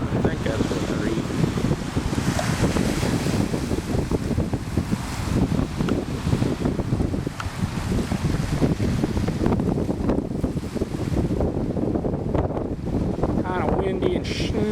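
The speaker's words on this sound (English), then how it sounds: "Windy and snotty today out." Strong wind on open water buffets the microphone with a constant rough rumble and gusting roar, mixed with waves and faint voices from a small boat.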